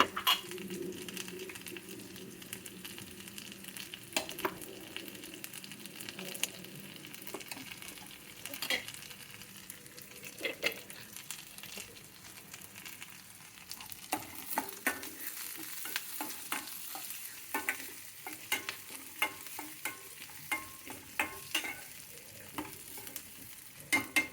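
Broad bean pods (chikkudu kaya) fry in a pan for a lunch stir-fry, with a steady soft sizzle broken by repeated scraping, clattering stirs close by throughout, and no talking.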